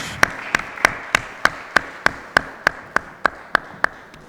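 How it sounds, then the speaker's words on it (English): Audience members at a televised school debate clap as the teams walk to the stage. Single sharp claps ring out at an even pace, about thirteen in a row, close and fairly loud, rather than a crowd's wash of applause. "Give them a round of applause as they approach the stage"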